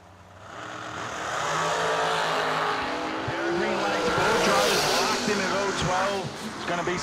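Race cars rev and roar toward the finish line at a drag-style event, engines rising in pitch with a tire squeal, while an announcer talks over the noise.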